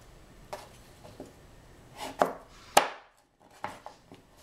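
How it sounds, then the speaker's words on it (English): Knife chopping through a mango on a cutting board: a handful of sharp, separate thwacks spaced irregularly, close and clear, with brief quiet gaps between strikes. "And I'm going to cut it in four pieces."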